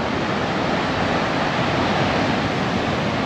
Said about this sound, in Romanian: Valurile sunt imense.